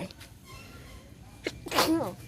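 A sharp, close sneeze bursts out near the end after a stretch of quiet room tone, loud and abrupt with a brief trailing breath, during a talk about Lao traditions.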